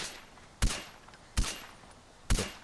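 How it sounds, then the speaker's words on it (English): Three sharp gunshots from in-game firearms in Far Cry, evenly spaced about a second apart, each a loud crack with a short decaying tail over a quiet background. "I'll continue shooting him."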